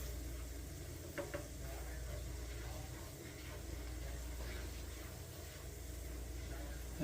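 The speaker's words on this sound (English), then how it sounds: "So we'll stir in that flour." Flour gets stirred into hot fat in a pan to make gravy, a faint, steady sizzle with light scraping of the spoon running underneath throughout.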